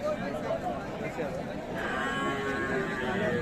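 A cow moos once at a rural cattle market in Dinajpur among Sahiwal cows and calves, a low drawn-out call heard under busy crowd chatter and nearby talk.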